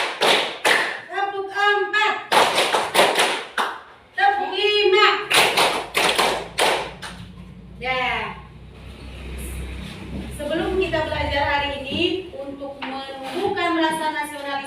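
A group plays tepuk bola, an Indonesian rhythmic clapping game, with loud, sharp hand claps in quick bursts and counted patterns, alternating with a leader's voice calling out between the rounds.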